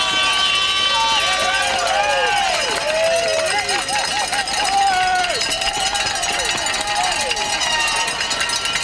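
At Red Bull Hardline, a crowd roars steadily and loudly as mountain bike rider Josh Bryceland crosses the finish line, with cowbells and whistles ringing through the din.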